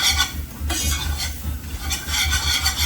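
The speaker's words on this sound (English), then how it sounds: "Keep whisking because we're gonna put the gravy into the roux" Metal whisk working a golden roux in a pan for KFC-style brown gravy, a steady scraping stir with soft sizzling underneath, close and continuous, no talking.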